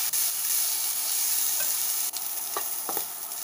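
Sliced pork stir-frying with garlic and chili powder in a hot pan makes a continuous loud sizzle, with a few scrapes and stirring knocks near the end.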